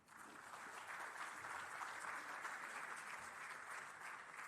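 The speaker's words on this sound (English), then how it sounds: "let's put our hands together and give him a round of applause" An audience claps steadily for a speaker at a formal community gathering, a dense, sustained round of applause filling the whole stretch without voices over it.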